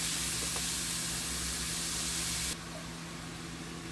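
Ground turkey and onion brown in a hot pan, making a steady, loud sizzle and hiss that drops suddenly to a quieter sizzle partway through.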